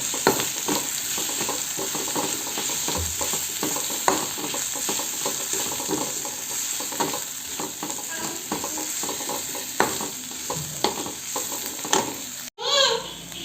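Egg fry curry ingredients with coriander and mint fry in a pan, a continuous close sizzle with frequent spoon scrapes and stirring clatter, ending in a brief louder knock.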